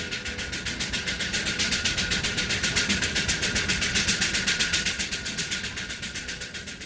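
A 36,000-pound wood-fired steam traction engine chuffs in a rapid, even rhythm, loud and close, each exhaust beat clearly separated over a rumbling mechanical drone.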